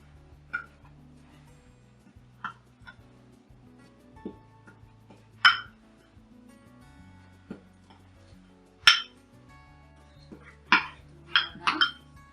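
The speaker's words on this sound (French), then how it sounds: "Une cuillère à soupe de fécule de maïs. Voilà. Et je vais mélanger ça très bien." Homemade deodorant ingredients mixed with a tablespoon of cornstarch, sparse spoon clinks and taps against a container at irregular intervals, a few sharper knocks standing out over a quiet background hum.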